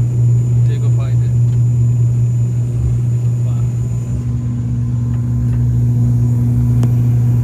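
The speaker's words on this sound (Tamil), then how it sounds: "பார்த்தீங்கன்னா கூட ஃப்ளைட் டேக் ஆஃப் ஆகும்போது" An airliner taking off from the runway near Chennai gives a steady, loud, low engine drone and rumble that stays constant throughout.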